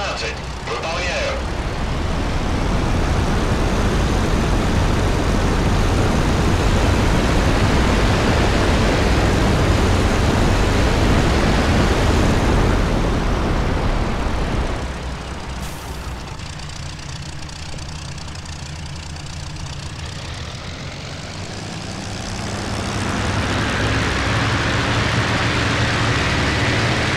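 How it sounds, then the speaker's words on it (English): IL-2 Sturmovik aircraft engine in a flight game: a loud, continuous roaring drone that holds steady for most of the time, dips briefly, then swells back up, with voices over it. "as the sound of the IL-2 engine is"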